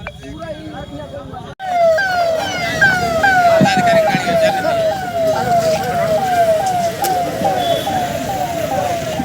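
A wailing ambulance siren sweeps up and down in a steady repeating rise and fall, loud and close over traffic noise after a sudden cut, the ambulance crawling through a road blockade in Bihar.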